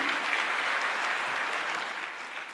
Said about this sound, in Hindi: विजय पांडे के लिए तालियां